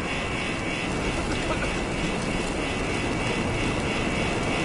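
Steady, loud rotor and engine drone from a helicopter in the Resident Evil 6 video game, a continuous mechanical roar with a faint tonal whine held evenly throughout, with no pauses or talk.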